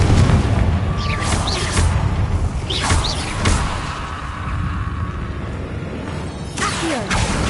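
Confringo blasting spell explosions in Hogwarts Legacy, several booming bursts with crackling tails over a constant rumble of game sound, with a lighter whooshing blast near the end.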